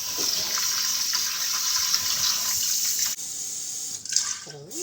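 A mix of plain and mochi rice being washed under a running kitchen tap, a steady close rush of water with splashing and swishing in the pot, ending with a sharper gurgle as water drains.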